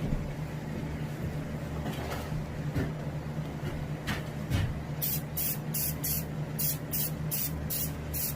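Short rhythmic hissing bursts of an airbrush spraying paint onto a striped bass skin mount start midway, following a few soft handling knocks over a low compressor hum.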